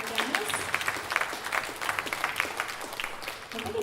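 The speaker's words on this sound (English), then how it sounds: "Round of applause for Dennis." An audience at a talent show finals claps in a steady, dense round of applause that fills the room at an even loudness, with crowd noise mixed into it throughout.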